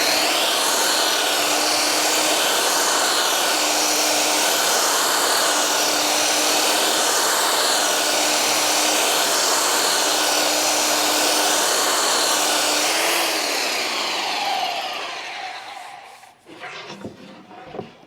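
A belt sander on a wooden door drones loudly and steadily for about fifteen seconds with a faint rising and falling whine, then cuts off, leaving a few light knocks.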